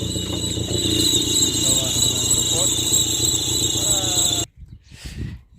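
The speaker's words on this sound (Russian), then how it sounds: "Что сделать, если машина вот так свистит при работающем двигателе?" A car with its engine running gives off a steady high-pitched whistle or squeal over the motor's idle rumble, holding constant and then cutting off abruptly to near silence with faint noises.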